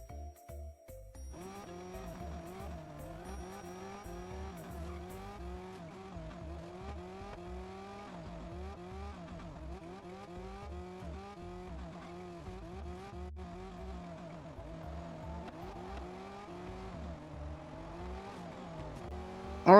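Lamborghini Sián and Brabham BT62 race cars battling in the Real Racing 3 game, engines droning and climbing steadily through gears with continuous high revving and shifts, loud and sustained throughout with no talking.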